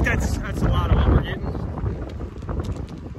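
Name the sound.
strong wind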